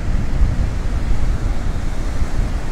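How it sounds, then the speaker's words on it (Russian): Stormy winter Baltic Sea surf at Zelenogradsk, a loud, steady roar of heavy waves breaking on the shore with strong wind buffeting close by, no voices. "Оно сегодня штормовое, прямо натурально. Огромная волна."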